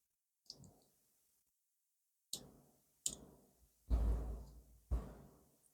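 Small keychain-sized NexTool Mini Sailor multitool, its scissors opened and snipped a few times, giving separate faint metallic clicks and snaps with quiet gaps between them.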